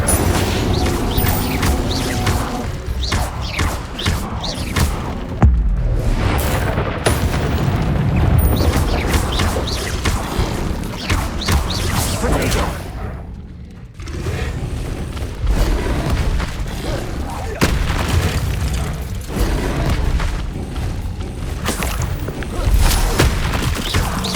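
Repeated fiery blasts from the Incendio fire spell in Hogwarts Legacy, a loud, continuous stream of booming bursts and crackling whooshes that run almost without pause, with a brief dip midway.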